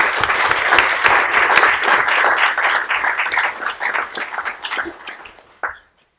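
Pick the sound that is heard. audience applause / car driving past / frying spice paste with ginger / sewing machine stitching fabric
audience applause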